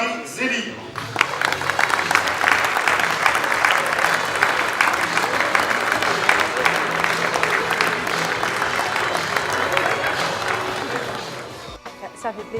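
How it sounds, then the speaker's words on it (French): Applause and crowd cheering for Marie Zélie at an amateur football awards evening, dense and sustained for about eleven seconds before quickly dying away. "Merci de faire un tonnerre d'applaudissements et d'encouragement à Marie Zélie"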